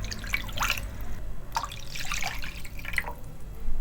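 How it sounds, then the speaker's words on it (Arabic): Water being poured from cups into a pot, heard as scattered splashes and drips in several short bursts over a quiet kitchen background. "هتجيب طاسة نبيتي تنزل فيها بكوبايتين مية"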